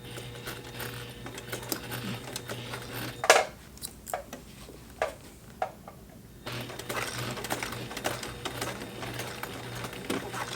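A Singer Heavy Duty sewing machine hems thick folded denim jeans under power, its motor whirring steadily, then pausing with several sharp mechanical clicks before resuming a steady stitching drone.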